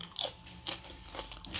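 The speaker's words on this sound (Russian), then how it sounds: "Я обожаю, когда хрустит." Crunchy vegetable salad with tomatoes and assorted leaves bitten and chewed close by: several sharp, crisp crunches in quick succession, no talking.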